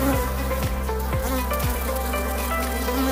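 Honeybees drone in a steady, dense buzz at a six-frame nucleus hive. The hum is continuous and close, and a few faint rhythmic clicks run beneath it.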